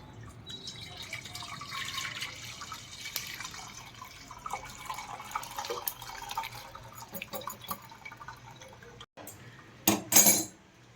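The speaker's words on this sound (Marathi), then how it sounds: "चाळणीमधून असं गाळून घ्यायचं आहे" Curdled milk for homemade paneer pours and drips through a cotton-cloth-lined sieve, soft trickling with light clinks of metal, ending in a few louder splashes.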